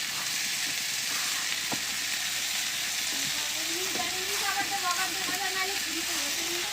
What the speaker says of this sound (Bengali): আর এদিকে হচ্ছে আলু ভাজা, ডিম দিয়ে আলু ভাজা